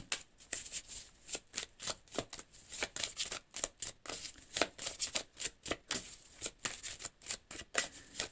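A deck of cards for a card reading is shuffled quickly and repeatedly close to the microphone, giving a steady stream of crisp riffling bursts with no talking.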